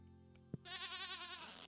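A goat in the Stardew Valley farming game gives one wavering, nasal bleat lasting about a second, clear and close, preceded by a soft tap and small game sounds.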